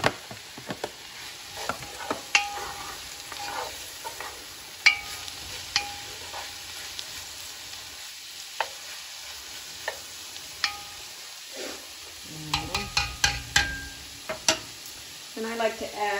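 Garlic fries quietly in a pan with a soft sizzle as a utensil taps and scrapes at intervals, close and sparse, with louder clatter near the end.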